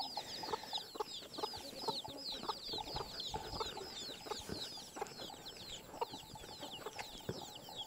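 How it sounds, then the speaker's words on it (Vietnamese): Several chickens cluck and chatter continuously outdoors, close by, with a busy rhythm of short calls and scratching under steady ambient noise. "Con gà nó chạy."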